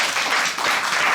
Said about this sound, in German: Dafür nochmal Applaus.